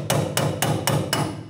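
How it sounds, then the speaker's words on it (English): Five evenly spaced metallic hammer blows on a chisel, driving a leaf spring shackle bolt out of a 1994-2004 Chevrolet S-10; sharp, close strikes with ringing decay, no talk. "chisel tip here to go ahead and pop that bolt out the rest of the way"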